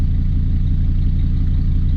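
An old Dodge Ram truck engine runs in neutral, a steady, close mid-pitched idle with a low rumble and faint clatter that holds even throughout.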